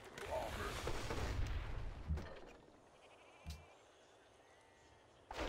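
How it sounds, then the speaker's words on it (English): Cannon volleys in the strategy game Civilization V, with a burst of booming, rumbling fire up front and a couple of single thuds later, heavy and loud, ending in another sharp blast. "Fire the cannons."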